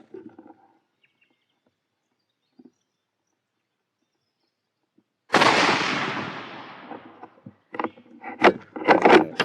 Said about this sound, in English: I'm just about to take a shot